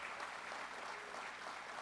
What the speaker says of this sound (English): Would you join me in a nice round of applause to Arnoff, Moving and Storage, to the Arnoff family.